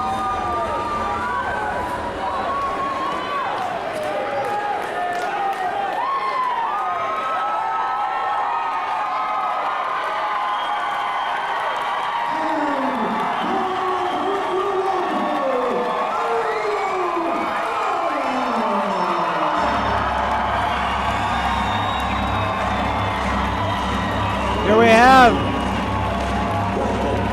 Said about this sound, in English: You can hear the crowd super excited for Ariel Beck.